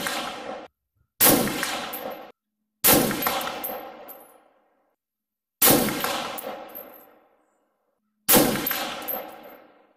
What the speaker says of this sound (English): So let's do 5 more shots,